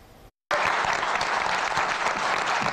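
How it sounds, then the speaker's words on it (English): After a short silence, a roomful of people at a school board meeting breaks into loud, sustained applause and cheering following a unanimous vote. "A room full of cheering and applause"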